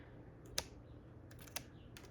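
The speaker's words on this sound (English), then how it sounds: "These scissors are not very sharp." Dull scissors snipping plant leaves: a few soft, sharp snips spaced apart over quiet background, close but faint.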